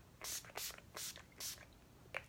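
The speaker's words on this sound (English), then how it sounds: "I'm just going to mist it on my face." Oil Strike setting spray from a pump bottle mists onto a face in four soft, airy bursts close to the mic, then a faint fifth puff, each a quick hiss separated by brief pauses.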